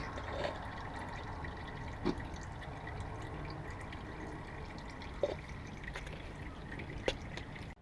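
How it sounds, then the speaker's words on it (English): Faint, sparse drips of automatic transmission fluid falling from a Nissan Altima at irregular intervals, a few distinct plinks over a low steady background hum. "Looks like all the fluid is out, so it's just dripping"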